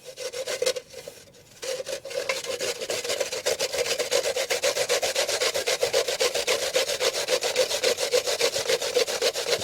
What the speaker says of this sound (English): we're gonna grate the coconut